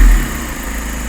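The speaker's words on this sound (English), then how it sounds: "So I'll ask my glamorous assistant to fire up the engine." A Mazda MX-5 with a battery fault fires up, a brief start that settles straight into a steady, close engine idle.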